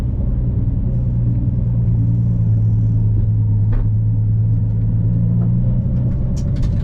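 Nissan 350Z engine at a Snetterton sprint race, a steady, loud low rumble that holds throughout with a sustained drone, heard from inside the car with no talk.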